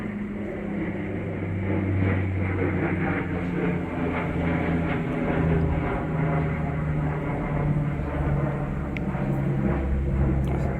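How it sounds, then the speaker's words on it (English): An airplane passes overhead as a steady, broad low rumble that holds at an even level for the whole stretch, with no talk over it. "Airplane flying overhead there."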